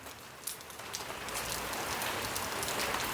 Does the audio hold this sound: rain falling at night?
yes